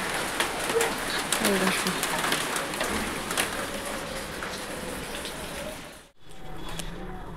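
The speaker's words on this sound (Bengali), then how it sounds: "আর এই যে বৃষ্টি হচ্ছে" Steady rain falls outdoors as pigeons coo nearby, with a brief spoken phrase and a sudden momentary dropout near the end.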